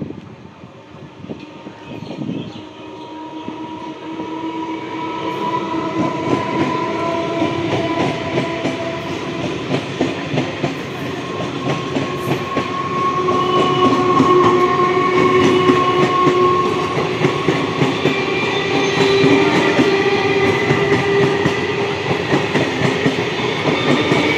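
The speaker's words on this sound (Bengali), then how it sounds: "তো এটা চলে গেল 31524 ডাউন শান্তিপুর শিয়ালদা লোকাল।" A 12-coach Down Shantipur–Sealdah local train passes close by, a steady loud rumble with rhythmic clickety-clack of wheels and a brief horn note, swelling midway and continuing throughout.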